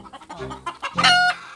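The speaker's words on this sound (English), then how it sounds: "We have chicken." Chickens on a farm clucking close by, a busy run of low clucks and calls rising into one louder, sustained crow-like squawk near the end, with no talk.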